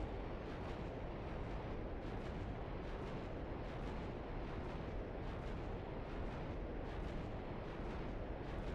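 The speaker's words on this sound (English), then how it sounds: "It'll just keep firing and firing until it runs out." A video game artillery missile launcher barrage fires continuously, a dense, steady roar of overlapping launches and blasts with no pauses, heard from a distance and fairly quiet.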